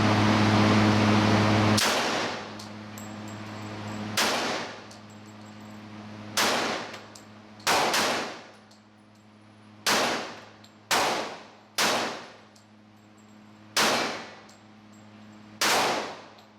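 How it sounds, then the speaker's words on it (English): About ten sharp Glock 21 pistol shots hit a steel target one after another at irregular intervals. Each crack is loud and followed by a brief metallic ring, and a steady hum sits underneath before the first shot. "I'll shoot for the top left this time. See how the Glock 21 does."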